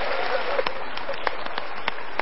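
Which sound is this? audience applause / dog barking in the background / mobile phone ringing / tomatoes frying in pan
audience applause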